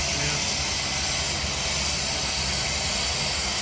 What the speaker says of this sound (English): They decided to go with the steam engine.